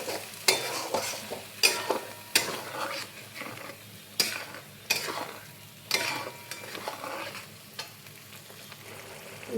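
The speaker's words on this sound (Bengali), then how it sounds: "মশলাটা তেল ছাড়া অবধি কষবো।" Spice masala stir-fried in oil for mutton curry: a continuous sizzle punctuated by repeated sharp scrapes and knocks of a spatula against the pot, close and fairly loud, with no talking.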